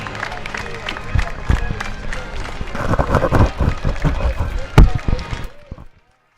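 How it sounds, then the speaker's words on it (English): Crowd at a Division 2 regional high school baseball championship applauds Defiance High School's Bulldogs, the runners-up, with irregular claps and cheering over crowd noise and talk, building then tapering off near the end. "how about a nice round of applause for Defiance High School for Bulldogs"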